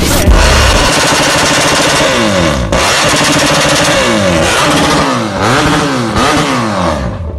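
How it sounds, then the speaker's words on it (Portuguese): A BMW F800 motorcycle with a loud single exhaust pipe revs hard over and over, the engine note rising and falling in sharp repeated bursts, very close and loud throughout. "Se tem um belo motivo para comprar uma F800, é o barulho dela, só um cano berrante."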